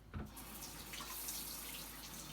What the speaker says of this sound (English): I need just a little bit of water, so I'm going to wet my hands.